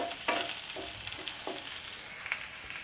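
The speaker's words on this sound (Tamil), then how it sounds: "கருவேப்பிலை சேர்த்துட்டு நல்லா மிக்ஸ் பண்ணி விட்டுக்கோங்க." Curry leaves stirred into onions frying in a pan for pallipalayam chicken, a soft steady sizzle broken by a few scraping spoon strokes, close and fairly quiet with no talk.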